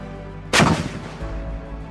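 A Paladin self-propelled howitzer fires once during field artillery annual training, a single sudden heavy boom close by that rolls off into a long low rumble.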